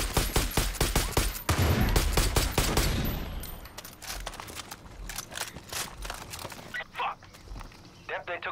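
Shotgun blasts and other gunfire ring out in Far Cry 5, a rapid cluster of loud shots followed by scattered quieter reports and footsteps, with a player talking over it.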